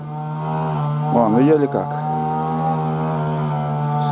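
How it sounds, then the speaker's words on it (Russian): A grass trimmer runs steadily close by during haymaking in the countryside, a loud, constant buzzing engine drone that holds through the whole stretch while someone briefly speaks over it. "Блин, этот триммер."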